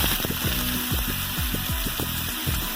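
Thinly sliced onions and green chillies frying in a pan for chicken curry; a soft, continuous sizzle runs throughout with repeated rhythmic stirring scrapes, heard close up and without talk.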